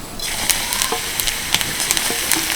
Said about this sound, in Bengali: হালকা করে এগুলো ভেজে নেব একটু